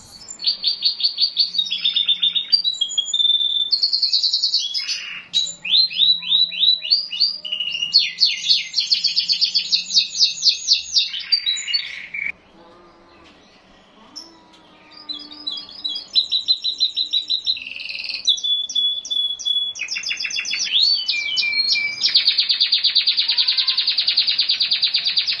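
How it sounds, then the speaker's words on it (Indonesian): A trained kenari isian canary sings long, bright trilling phrases of rapid chirps and warbles, loud and close, with short breaks between bursts and a brief lull midway. "tadi itu kita lihat burung kenari isian"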